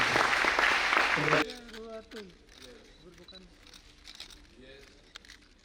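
A burst of audience applause at the launch of an ASEAN food citizen program, dense and loud, breaking off suddenly as a voice begins speaking over quieter room sound.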